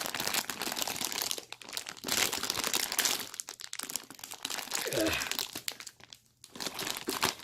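Plastic packaging from a Lego Batman set crinkles and tears in loud close bursts, with quiet pauses between handling sounds.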